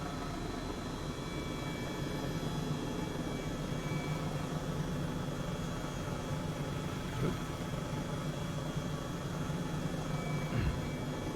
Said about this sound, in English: Trying to keep control of the helicopter